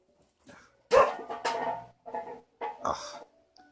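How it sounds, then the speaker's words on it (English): Dogs bark in several short, sharp bursts with brief pauses between them, fairly clear and close, with no talking. "My dog heard other dogs barking outside."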